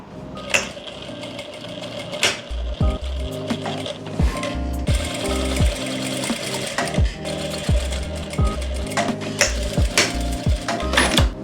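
Sewing machine stitching a pocket onto the front panel of a circular plazo, running in repeated bursts with brief pauses, close and loud, no talking.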